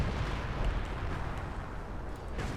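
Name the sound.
artillery fire hitting, from the video game Company of Heroes 2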